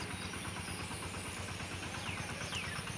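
Tractor engine arriving, a close, steady, rapidly pulsing chug with a rough mechanical rattle and faint hiss, running continuously for a few seconds.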